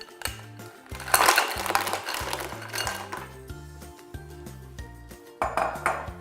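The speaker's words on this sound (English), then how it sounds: "it's time to go in with the mussels. So just take the whole bowl and pop it in" Fresh mussels tumble from a bowl into a pan with garlic sauce, a burst of clattering shell clinks and hard knocks against metal, loud at first and then thinning into scattered rattles.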